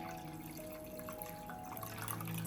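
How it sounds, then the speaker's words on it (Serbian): Water pours into a cooking pot lined with a cloth and holding glass jars, filled to lid height for pasteurizing preserved peppers; a soft, steady splashing and trickling runs the whole time, fairly quiet against a low background hum. "Vodu sipam do visine poklopca,"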